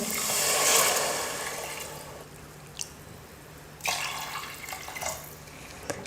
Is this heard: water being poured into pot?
yes